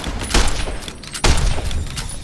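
An enemy's gun fires in the video game Fallout: New Vegas, two loud, close blasts with noisy, ringing tails about a second apart.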